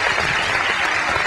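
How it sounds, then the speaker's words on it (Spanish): Studio audience applause welcoming a guest onto a television talk set, a dense, even wash of clapping throughout the short moment. "lo vamos a recibir con gran aplauso, es don Mario Ortiz"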